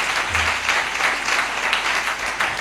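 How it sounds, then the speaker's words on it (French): Church congregation at a chapel dedication service applauding, a dense, continuous wash of clapping that stays loud throughout the short stretch, with no speech on top. "Applaudissez Dieu pour ça."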